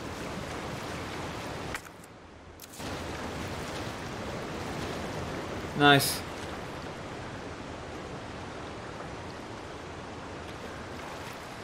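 Wading through dirty sewer water in Resident Evil 3 Remake, a steady broadband rush of sloshing water that drops out briefly and then resumes, with a sharp louder splash or impact in the middle and one brief spoken word.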